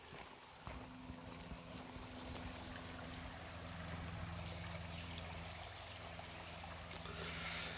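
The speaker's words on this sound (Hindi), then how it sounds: "और ये पहाड़ों से निकलता पानी" Mountain water runs through a forest stream in Germany, a steady broadband rushing and trickling that holds evenly throughout, with some wind buffeting on the microphone and a low hum underneath.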